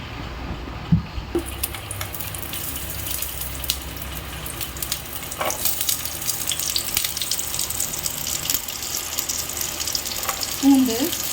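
Oil sizzles in a pan, a soft, fairly faint frying hiss with some watery, tap-like texture, a few clinks and a brief thump near the end, no voices.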